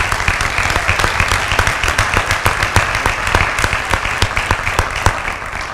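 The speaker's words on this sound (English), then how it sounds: "Let's give one more round of applause to the inductees this evening." Audience applause for Educators Hall of Fame inductees at an evening ceremony, steady close clapping from a room full of people lasting several seconds.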